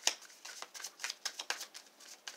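Tarot cards drawn and shuffled from a deck: a quick run of crisp, papery flicks and slides, close and fairly soft, with no talking.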